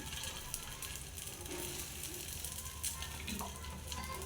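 Appe batter sizzles in an appe pan as a second batch cooks on a gas stove: a steady, soft crackling hiss that holds evenly throughout, with no voices.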